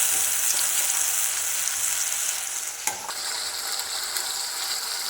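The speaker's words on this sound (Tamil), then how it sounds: "தக்காளி வந்து நல்லா வதங்கணும்." Ground tomato paste sautés in hot oil in a pan for a chicken and taro root gravy, giving a loud, continuous sizzle with a small clink partway through.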